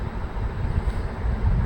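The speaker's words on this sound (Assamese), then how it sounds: "এইখানো ট্ৰেইন যাই আছে" A train rumbles past close to a railway line on a morning walk, a dense low roar with steady wheel noise that fills the whole short stretch without pause.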